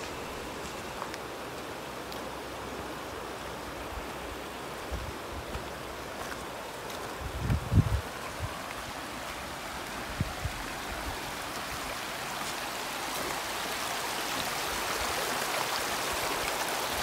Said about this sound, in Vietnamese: nước suối trong veo.